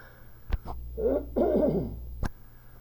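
A person clears their throat with a rough, gravelly rasp in two short bursts, bracketed by sharp clicks, no speech.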